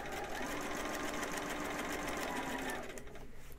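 A sewing machine runs continuously at close range, stitching fabric for a monk robe, its rapid mechanical whir steady and loud before easing slightly at the end.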